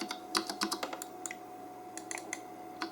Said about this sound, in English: We can tap on keyboard typing,